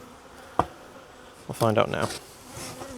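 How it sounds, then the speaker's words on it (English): Honey bees buzzing around a small nurse-bee cluster during hive requeening, a faint steady hum beneath a brief sharp knock and a man's short spoken remark. "So this should just be nurse bees and hopefully the queen."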